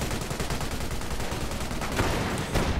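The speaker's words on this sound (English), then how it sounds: "Panzer's advancing and coming under fire from the 40mm anti-aircraft gun" Rapid bursts from a Bofors 40mm anti-aircraft gun in a war video game, firing in dense, continuous rhythm at a Panzer tank, moderately loud and alone.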